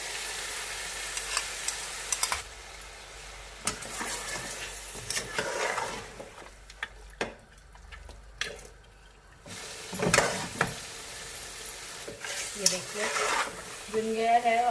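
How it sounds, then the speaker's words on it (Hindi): Beef with masala, salt, chili flakes and yogurt frying in a pan, with an ongoing sizzle and intermittent spatula scrapes and knocks, pausing briefly before stirring resumes. "थोड़ा सा भूनेंगे इसे"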